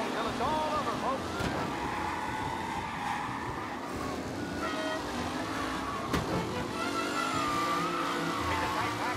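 Race cars roaring around a track on the final lap in Mafia: Definitive Edition, engines droning at a moderate distance with whining revs and brief skids, mixed with crowd and announcer-like voices talking over them.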